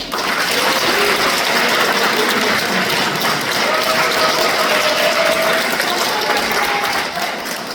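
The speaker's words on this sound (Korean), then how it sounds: "다시 한번 잘해주시라고 박수 한번 주십시오" Applause from the audience at a Democratic Party lecture event in Cheongwon, a dense, steady wash of clapping with no break.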